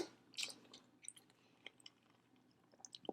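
Close, quiet mouth sounds of biting into and chewing salmon sushi, soft wet clicks and squishes scattered over a few seconds with no talking.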